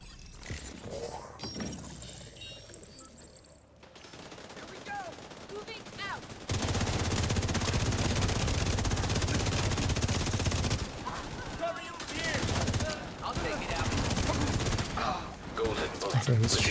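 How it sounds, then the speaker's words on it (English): Video game gunfire erupts in long sustained bursts of rapid shots, loud and dense for several seconds at a time, separated by quieter stretches of mechanical clicks and game sounds. "So he's shooting in the back there"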